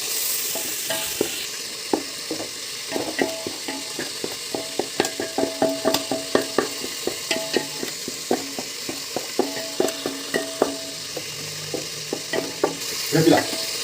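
Tomatoes and biryani masala stir-frying for mutton biryani, a soft sizzle under a run of rhythmic scraping and clattering strokes of a spoon against the pan, close and fairly loud.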